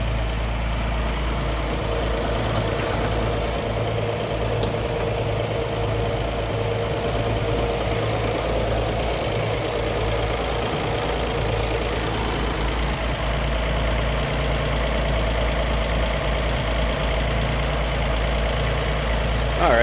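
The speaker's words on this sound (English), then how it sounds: "Inline 6, purring right along. Smooth running." Smooth, even idle from the inline six-cylinder engine of a 1931 Chevrolet Independence coupe, heard up close with the hood open, a continuous low purr holding steady throughout with no talking.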